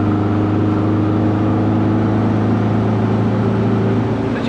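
A VW Beetle accelerates in fourth gear from 90 km/h with a loud, steady engine drone heard from inside the car that holds without breaks, and no talking.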